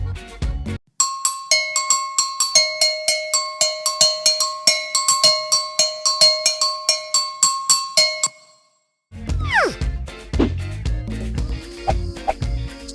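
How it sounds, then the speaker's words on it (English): An agogo bell struck in a steady run of bright, clanging metallic hits, about two dozen close-miked strokes alternating between two pitches, followed by a short silence and a stretch of other rattling percussion. "Agogo Bell."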